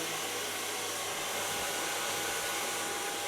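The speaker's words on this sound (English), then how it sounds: "Take a blow dryer of Kione." A Kione blow dryer drying hair with a brush runs as a steady, loud, unbroken airy roar close by, with no talking.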